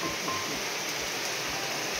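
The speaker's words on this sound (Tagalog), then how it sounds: "Lakas pa naman ng ulan." Heavy rain falls outdoors in a steady, dense hiss that fills the whole stretch without letup, with faint low thumps underneath.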